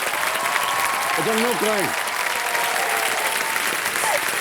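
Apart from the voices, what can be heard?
studio audience applause for Ravi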